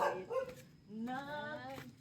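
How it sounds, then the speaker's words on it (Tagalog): Dog barking in bursts: a few sharp yips and whimpering barks up close, with a longer harmonic whine-bark near the end, a household setting with a person nearby. "Baka naman kumahol yung aso."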